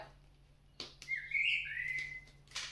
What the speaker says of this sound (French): Alors on a accompagné des chants d'oiseaux.